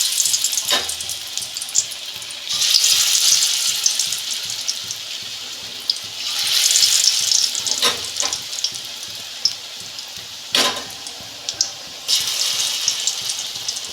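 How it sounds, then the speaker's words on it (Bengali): Banana stem fritters fry in hot oil in a wok, giving a continuous close sizzle that swells in louder bursts and sharp crackles, with no voices. "আমি বড়াগুলো ভেজে নিচ্ছি।"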